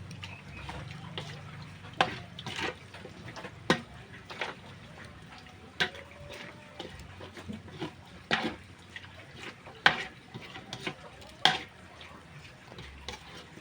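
A spoon stirs dinuguan, a Filipino pork blood stew, in a pot, producing soft wet scrapes and periodic sharp clinks against the pot over a low simmering background.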